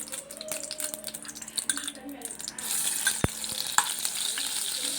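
Butter and oil heating in a pan for chicken tikka masala, a soft crackling fry that turns into a brighter sizzle about halfway through, with one sharp clink. Moderately quiet, close by.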